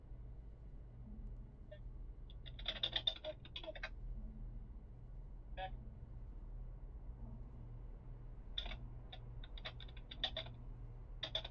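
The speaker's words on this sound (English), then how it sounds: "Kind of go back and forth with it, typing a bunch of crap." Typing on a computer keyboard during a live stream setup test, heard as several bursts of quick clicking keystrokes over a steady low hum, with pauses between flurries.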